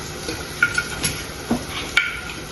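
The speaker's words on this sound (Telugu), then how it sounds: "ఇందులో ఉల్లిగడ్డ, నువ్వులు, పల్లీలు వేగుతున్నాయి" Onion, sesame seeds and peanuts frying in a pan for a taro curry, with a soft sizzle under a few sharp clinks and scrapes of a stirring spoon against the pan, close by.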